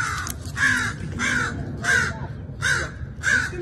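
A crow caws repeatedly, five or six harsh calls in a steady rhythm, fairly close, with a low background rumble underneath.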